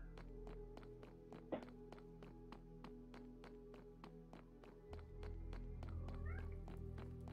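A cat meows in the video game Minecraft, one short call amid a regular ticking, tapping rhythm and low game hum, quiet and close.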